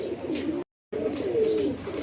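Racing pigeons coo softly and close by in low, rolling bursts, broken by a short stretch of dead silence before the cooing resumes.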